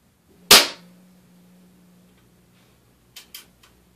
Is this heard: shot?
yes